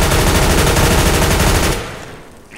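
Loud, rapid automatic gunfire in the video game CS:GO rattles in a dense burst for nearly two seconds, then cuts off abruptly into quieter game noise.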